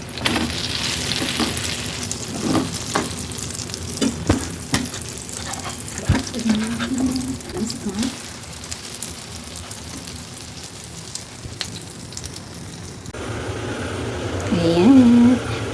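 Tortang talong, an eggplant omelette, fries in a pan with a continuous crackling sizzle, close and fairly loud, with scattered scraping and handling sounds as it cooks.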